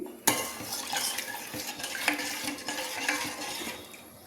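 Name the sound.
stirring ragi porridge in a pot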